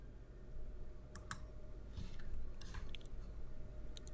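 A computer mouse gives a handful of quiet, crisp clicks at irregular intervals over a low, steady background hum.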